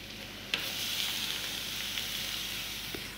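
Grated beetroot tipped into sautéed onions in a hot pan, a bright steady sizzle with a faint thump as it lands, then continuous hissing and no voices.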